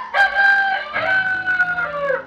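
A rooster crows loudly and close by in one long, strained call that rises, breaks and drawls on with rough harmonic tones.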